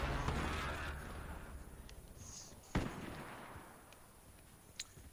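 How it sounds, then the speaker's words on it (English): A single sharp gunshot in Call of Duty cracks partway through over a rumbling background, followed by a fainter distant pop near the end. "I hear a gunshot."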